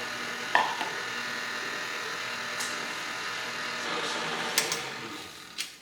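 An electric mixer churns sourdough sandwich bread dough with a steady buzzing motor whir, fairly quiet, with occasional knocks and bumps from the bowl.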